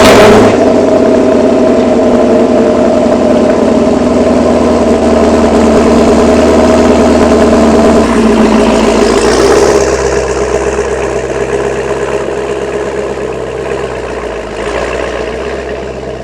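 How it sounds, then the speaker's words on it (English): A 2018 Chevrolet Camaro SS 1LE on a cold start settles into a loud, steady idle with a deep low rumble, the pitch and level easing down somewhat after the first several seconds; no talking. "we can't forget the cold start on the Camaro"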